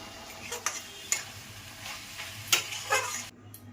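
Fried chickpeas tipped into a pan of cooking taro greens and stirred, a low sizzle under several sharp clicks and scrapes of the spoon against the pan, quiet and close.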